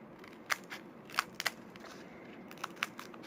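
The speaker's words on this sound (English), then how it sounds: "I am just gonna go ahead and trim a little bit more" Scissors snipping while trimming a plant during patio decorating, a handful of sharp, close crisp cuts spaced irregularly over a quiet background.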